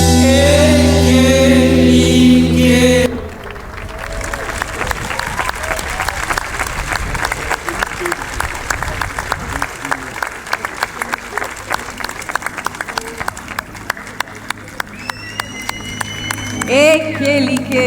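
Award ceremony audience gives sustained applause for a Cape Verdean band receiving a 2025 career prize, following a brief burst of music, with dense clapping that holds steady and swells again near the end.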